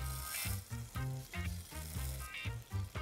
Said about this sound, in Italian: Qua ho messo il burro, facciamo tostare il riso.